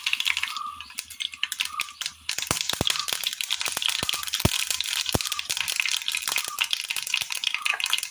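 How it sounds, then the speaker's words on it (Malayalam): Mustard seeds spluttering in hot oil in a pan, loud and close: dense, irregular crackling and popping with sharp snaps scattered throughout. "ഇതിലേക്ക് നമുക്ക് കടുകിട്ട് കൊടുക്കാം"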